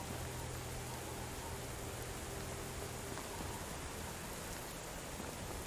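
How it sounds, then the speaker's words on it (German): Steady, dense hiss of rain falling continuously in the video game Medieval Dynasty, even and unbroken, with a faint low hum beneath. "Und es regnet einfach unerbitterlich."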